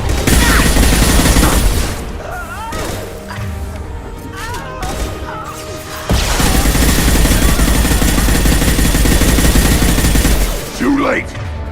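Impact-shot gunfire and combat noise from the video game Mass Effect 2, loud and dense with bursts and booms nearly throughout, easing mid-clip before surging again, with game voices shouting over the fighting.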